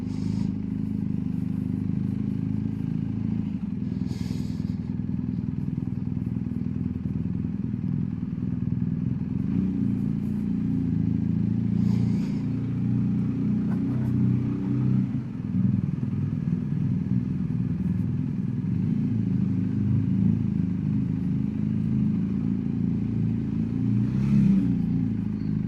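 A BMW motorcycle ridden two-up on a road in Italy, its engine droning steadily at close range throughout, with faint rattles and wind noise and no clear rise in revs.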